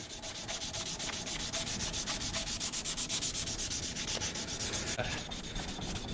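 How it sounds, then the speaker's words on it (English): Close, quiet, rhythmic rasping comes from 220-grit sandpaper rubbed back and forth over an old hatchet in steady, even strokes. "Now I'm just gonna take some sandpaper and smooth it out."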